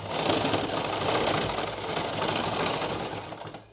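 A sewing machine runs in one continuous, fast stitching burst close by, stitching the hem edge (ponche) of a salwar, with a steady rattling whir that winds down at the very end and no talking over it.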